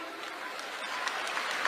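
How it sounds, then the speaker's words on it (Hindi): Audience applause at a Delhi association event, a steady wash of clapping from a crowd running throughout, fairly even and moderately loud with a slight swell toward the end. "तो दो जोरदार ताली बजाओ भाई।"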